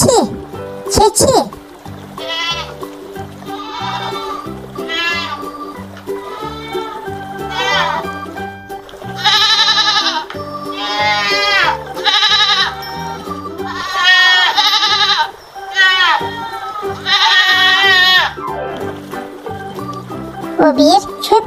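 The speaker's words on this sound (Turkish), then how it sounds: "Bu bir keçi." A farm goat bleats in a series of wavering, nasal calls, some short and some drawn out, close and fairly loud with a steady background underneath.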